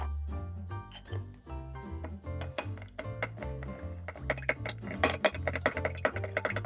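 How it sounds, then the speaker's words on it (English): A spoon stirs sugar and water together in a glass, giving a run of bright, irregular clinks against the glass that grow busier toward the end, with music playing underneath. "We'll start off by mixing our sugar and our water together in a glass and stirring until it dissolves."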